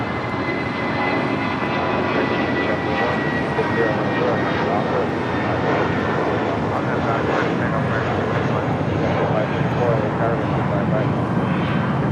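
An airplane passing over Imperial Hill near the South Complex at LAX, a loud sustained engine roar rumbling overhead while a person talks throughout.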